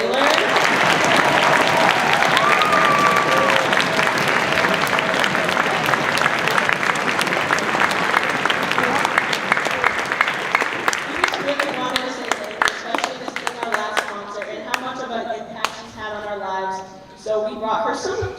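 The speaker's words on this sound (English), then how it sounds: "can we get a round of applause for Miss Taylor?" Loud applause from a school orchestra concert audience, dense clapping that thins into scattered claps and cheers toward the end as voices start to talk over it.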